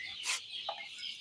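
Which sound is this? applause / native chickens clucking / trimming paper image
native chickens clucking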